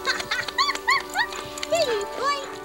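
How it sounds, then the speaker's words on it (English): A dog in a documentary scene runs up to a car, giving a quick series of high yips and whining yelps, close and fairly loud, with faint background sound underneath. "My favorite part, oddly, in the scene is when the dog runs up to the car."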